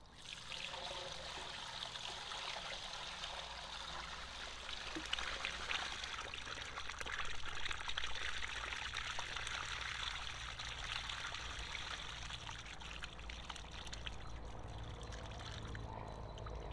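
Digestate slurry pours steadily out of a biogas plant tank, a continuous rushing, splashing stream that holds at a constant level throughout with no pauses.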